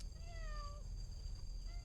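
A cat in a forest gives one clear, falling meow close by, with a faint second call just after, over low rumbling background noise.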